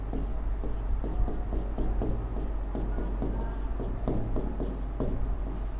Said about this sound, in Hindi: सबसे पहली बात यहाँ पे मैं यहाँ पे लिख दे रहा हूँ वस्तु की स्थिति